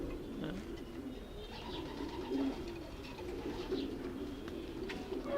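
Racing pigeons coo in a steady, close low murmur of overlapping calls that continues without pause, with a few faint chirps above.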